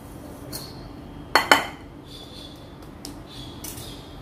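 A bowl of chocolate crinkle batter with brown and white sugar is stirred by hand, giving two sharp utensil clinks against the bowl amid faint scraping and soft background hiss, no talk.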